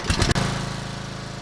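An old mower tow vehicle engine catches after a choke start, with a few loud sputtering bursts in the first third of a second, then settles into a steady, close, even-pitched running drone.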